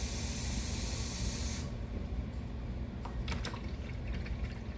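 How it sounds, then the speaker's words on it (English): Water poured into a baking pan as a water bath for a chocoflan: a loud rushing hiss for the first moments, then fainter trickling and a few small splashes. "let's put some water"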